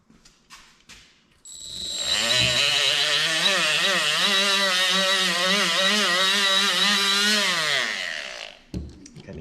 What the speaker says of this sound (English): So let's get my wire wheel and just give it a maybe just the carbon ring off